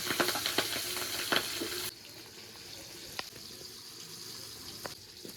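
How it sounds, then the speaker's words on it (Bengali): Pieces of rohu fish fry in oil with a loud close sizzle for about two seconds, then the hiss drops to a quieter, steady crackle with occasional sharp taps. "বাকি মাছের পিসগুলো ভেজে নিচ্ছি।"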